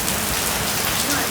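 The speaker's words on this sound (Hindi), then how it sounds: "बारिश इतनी तेज़ हो रही है कि कुछ दिख ही नहीं रहा है." Heavy rain pours down during a fast boat ride from Bali to Nusa Lembongan, a dense, loud, unbroken hiss of drops drumming on surfaces.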